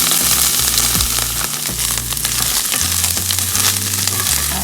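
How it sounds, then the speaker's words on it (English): A strained filling with spinach to come, stir-fried in a pan for low-carb stuffed bell peppers, giving a loud, continuous close-up sizzle broken by scraping and stirring noises. "I'm just going to kind of stir fry it and then add in my spinach"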